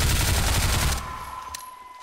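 Rapid burst of MP5 submachine gun fire in the Half-Life 2 Cinematic Mod game, loud and dense for about a second before cutting off into a fading echo and low background hum.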